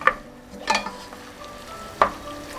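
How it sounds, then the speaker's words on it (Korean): Seasoned pork being stir-fried in a pot for pork kimchi stew, with a low sizzle under a few sharp scraping stirs of a utensil against the pot, no voices. "양념이 잘 배이도록 고기가 어느 정도 익을 때까지 달달달 볶아주세요"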